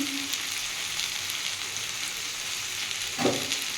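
Cauliflower stalks and leaves with cumin, chilli and turmeric sizzle steadily in a pan during sautéing, a soft continuous frying hiss with a brief clatter of stirring near the end.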